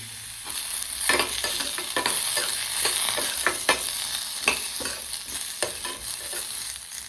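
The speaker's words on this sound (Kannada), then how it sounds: "ಎಲ್ಲವೂ ಮೀಡಿಯಮ್ ಆಗಿ ಫ್ರೈ ಆಗ್ತಾ ಇದೆ" Dal and chopped coconut frying in a pan for chutney, a steady sizzle broken by repeated scraping and stirring strokes at an uneven rhythm, close and fairly loud, with no voices.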